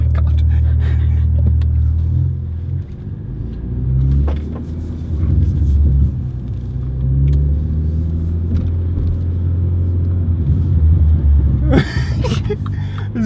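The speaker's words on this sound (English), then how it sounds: "No Mini really sounds quite as throaty as this one." A throaty Mini engine rumbling loudly at close range, with deep low tones that swell as it revs and settles, and a brief sharper burst of noise near the end.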